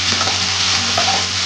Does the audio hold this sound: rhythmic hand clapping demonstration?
no